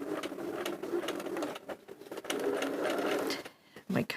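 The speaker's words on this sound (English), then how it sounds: "Do those couple of back stitches." A sewing machine runs short, quick bursts of back stitches while piecing quilt-as-you-go fabric hexagons, its close mechanical whirr starting and stopping with brief pauses between runs.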